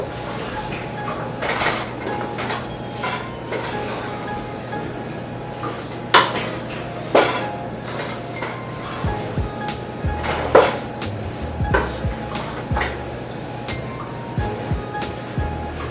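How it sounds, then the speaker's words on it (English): Sweet mashed potato and tuna being mixed in a bowl, with repeated clinks and scrapes of a utensil against the dish over a steady low background hum, a few sharper knocks standing out. "Now I'm going to mix everything up. I'm going to combine all of this up."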